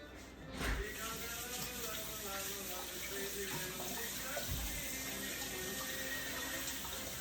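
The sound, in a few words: washing hands under running tap water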